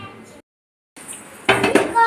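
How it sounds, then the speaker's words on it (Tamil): Rice pours into a pot of boiling water for biryani with a rattling clatter, after a brief silence and some faint shuffling; the rustle swells and stays steady near the end. "அரிசி போடுறேன்."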